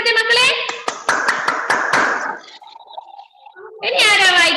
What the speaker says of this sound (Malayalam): നല്ലൊരു ക്ലാപ്പ് കൊടുത്തേ മക്കളെ